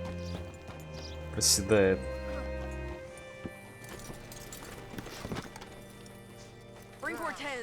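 Horse clip-clop and a whinny in Red Dead Redemption 2, hooves thudding and a neigh rising over game dialogue and someone talking, with another snort-like burst near the end.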